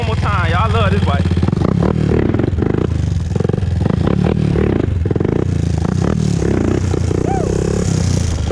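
A 2001 Honda TRX400EX ATV engine runs loud and close as the quad is ridden around a corner, with a steady motor drone, scraping and clattering, and people talking and cheering over it.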